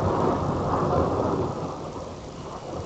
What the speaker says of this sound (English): my room is vibrating off the Thunder